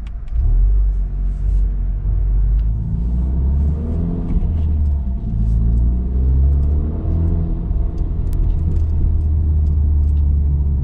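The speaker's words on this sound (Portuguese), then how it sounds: "Isto à primeira vista está a puxar para caraças, tem um escape, está a fazer um barulho mesmo muito fixe." Honda Civic FK8 Type R with a Remus exhaust and open valve, a deep, close engine rumble that rises and falls steadily as the car pulls, with no talk over it.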